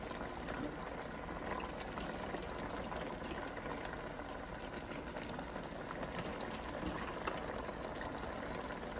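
A pot of water with bitter gourd pieces boils steadily, a dense, even bubbling hiss heard up close for several seconds without pause.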